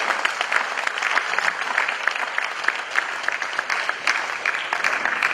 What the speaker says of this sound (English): let's applaud them as they really deserve